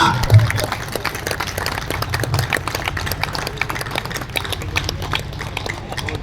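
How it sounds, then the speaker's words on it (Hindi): Audience at a lecture on corruption clapping, a dense continuous spatter of many hands sustained throughout, fairly loud and close with a brief low thump near the start. "ताली बजा भाई, ताली बजा"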